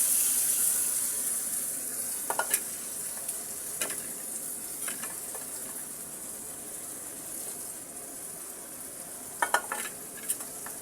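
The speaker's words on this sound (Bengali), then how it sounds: "এবার আমি কেটে ধুয়ে রেখেছি মলা মাছ, আমি মাছটা এখন দিয়ে দেব।" Small mola fish cooking in a hot pan with a little water, giving a steady broadband sizzle with a few brief stirring scrapes and clinks, close and fairly quiet, with no talking.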